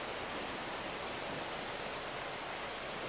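Steady, dense rush of falling water from a waterfall beside a cliff in the video game Hitman 3, a constant broadband roar holding even and loud throughout with no voices over it.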